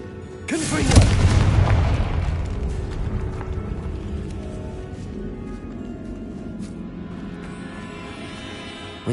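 The Confringo fire spell in Hogwarts Legacy is cast inside a tomb: one heavy explosive boom with a sharp attack, followed by a long rumbling decay and a low ambient drone.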